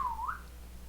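A voice imitates a crane's call with one short, close whistle that dips and then rises again, lasting under half a second, followed by quiet.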